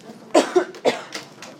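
A few sharp, close coughs in quick succession, followed by softer trailing bursts.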